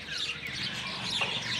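Small birds chirp and tweet continuously outdoors, a dense faint chatter of calls over a steady low background hum.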